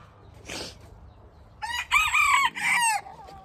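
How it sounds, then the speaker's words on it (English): A buff Orpington rooster crows loudly and close by in a drawn-out, multi-part call, preceded by a brief softer squawk. "These are my buff Orpingtons. That's my rooster."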